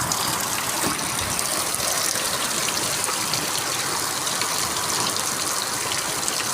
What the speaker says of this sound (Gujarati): ગાજવીજ સાથે વરસાદ